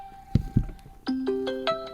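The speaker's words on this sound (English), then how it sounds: "Okay, now my phone is ringing." A OnePlus phone rings after the OnePlus Watch 2's find-phone feature triggers it: a rising melodic ringtone sounds alone and fairly close, with a few soft bumps just before it starts.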